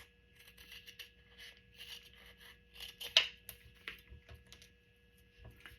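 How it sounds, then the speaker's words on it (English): Scissors cut through paper backed with double-sided tape: a quiet series of short snips and scrapes, one sharper cut standing out, over a steady low mains hum. "cut along your edge of your double-sided tape"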